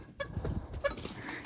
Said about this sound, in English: Just more chicken drama.